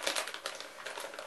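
A small plastic packet crinkles while handled, giving soft, close, irregular crackles in quick bursts over about a second, faint and without talk.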